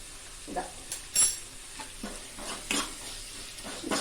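Egg curry ingredients sautéing in a pan as they are stirred, with a soft sizzle and several scraping strokes spaced across the moment, close and moderately quiet, with no talking.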